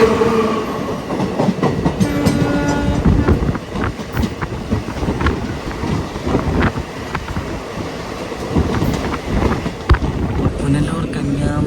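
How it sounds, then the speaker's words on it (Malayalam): Mysore–Kochuveli Express with Humsafar coaches pulling into Kochuveli station, a loud continuous rumble of wagons with clattering wheel clicks and squeals, people talking over it throughout. "കൊച്ചുവേളിയിൽ യാത്ര അവസാനിപ്പിക്കുന്ന മൈസൂർ കൊച്ചുവേളി എക്സ്പ്രസ് ഇവിടെ കൊച്ചുവേളിയിലേക്ക് കയറുകയാണ്."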